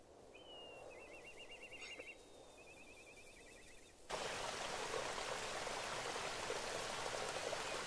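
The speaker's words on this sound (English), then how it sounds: "Raindrops." Rain falls in the role-playing game Eternal Sonata, first as a soft patter beneath thin whistling tones, then abruptly swelling into a dense, steady hiss of downpour that continues to the end.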